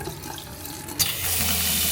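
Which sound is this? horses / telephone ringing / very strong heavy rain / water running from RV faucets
water running from RV faucets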